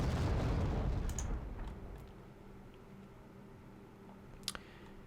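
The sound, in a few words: artillery explosions in video game Wargame: Red Dragon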